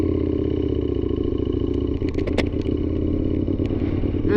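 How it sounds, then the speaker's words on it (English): An ECOSSE Iconoclast V-twin motorcycle rumbles steadily and close, its engine note continuous with a few sharp clicks and clatters over it. "Few men in the world will ever know what it's like to ride an ECOSSE."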